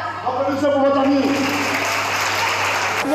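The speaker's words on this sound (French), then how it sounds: "Applaudissez pour votre ami." A group applauds a friend, a brief burst of clapping that rises after a spoken prompt and carries on steadily for a few seconds, with voices under it and a low steady hum behind.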